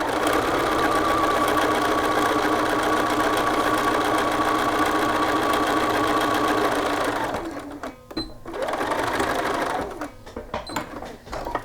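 A sewing machine stitches a seam at steady speed for several seconds, a loud close mechanical whir, then stops and starts in short bursts for the back tack at the seam's end.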